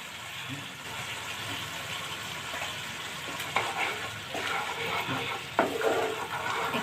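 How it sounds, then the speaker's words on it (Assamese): Egg, paneer and potato biryani gravy with curd and biryani masala bubbles and simmers in a pan, a steady soft sizzle with occasional sharper pops and faint utensil clicks, no voices. "এইখিনি ভালকৈ মই উতলিবলৈ দিম।"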